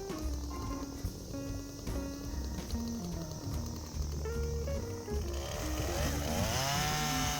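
A chainsaw cuts thin firewood laid on the ground, its engine droning loudly and steadily with changes in pitch as the chain bites, ending in a rising, revving whine.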